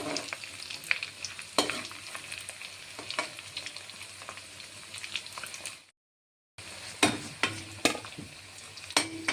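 Egg chops sizzle steadily in hot oil in a pan, with scattered sharp crackles and pops over a constant frying hiss, close and fairly quiet.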